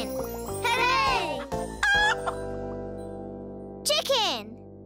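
A chicken in a children's cartoon about animals clucks and squawks in a few short bursts over a bright, jingly music bed.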